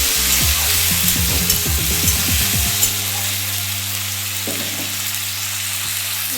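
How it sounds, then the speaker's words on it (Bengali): Small pieces of salted potato fry in a pan with a crackling sizzle. Quick stirring scrapes come in the first few seconds, and then a steady hiss holds on alone. "নুনগুলো আলুটা একটু ভেজে নেবো"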